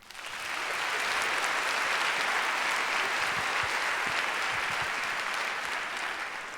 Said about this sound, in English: Please join us in giving them a round of applause as well.